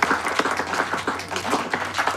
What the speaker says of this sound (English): Round of applause for our willing volunteer, everyone.